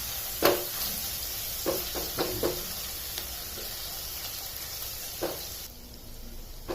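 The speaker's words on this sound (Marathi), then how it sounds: "लसूण अद्रकचा कच्चेपणा जाईपर्यंत परतवून घ्यायचं याला" Garlic-ginger paste sautéing in a pan for potato bhaji, a continuous close hiss of sizzling broken by several scraping stirs of a spoon, with the hiss easing toward the end.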